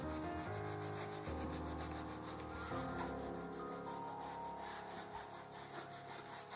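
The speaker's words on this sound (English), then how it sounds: "I'm just kind of scrubbing along here just to get some interesting shapes." A sponge scrubs acrylic paint onto canvas in quick, even, rhythmic rubbing strokes that stay steady throughout, with background music playing underneath.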